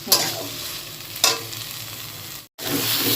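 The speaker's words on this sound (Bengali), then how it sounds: "আরো একটু নেড়ে নেড়ে কমিয়ে নিতে হবে।" Taro greens frying in oil with shrimp make a loud, continuous sizzle. Two scraping stirs stand out early, and the frying drops out briefly for a moment before picking up again.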